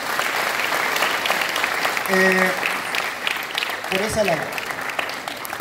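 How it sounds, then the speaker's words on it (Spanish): Strong audience applause rises at a Christmas food-basket handout in Tierra Blanca, a dense sustained crowd clapping that continues while someone speaks briefly over it. "vale la pena darles un fuerte aplauso"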